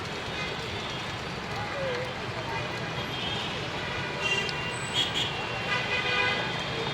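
Dense traffic jam on a road beside an elevated expressway: a constant roadway rumble with several short car horn toots near the end and people talking over it.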